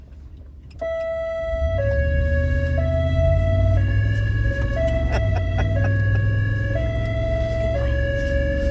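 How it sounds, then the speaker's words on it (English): A loud European-style two-tone high-low emergency siren alternates high and low pitches in a steady, even rhythm, close by during an evacuation exercise, with a vehicle engine rumbling beneath. "these high-low sirens are not the ones that are usually used here in the United States"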